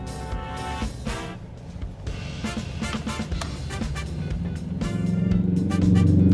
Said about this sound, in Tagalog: grabe po yung traffic